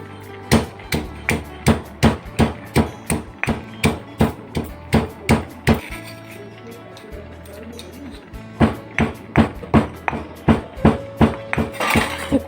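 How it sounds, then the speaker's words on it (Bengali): A knife chops nuts coarsely on a board in a home kitchen, a loud close run of sharp, regular knocks that pauses briefly and then picks up again at the same steady pace. "আমি এখন এই বাদামগুলো কুটে নেব"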